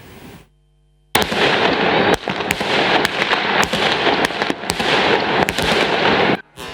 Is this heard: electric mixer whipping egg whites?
no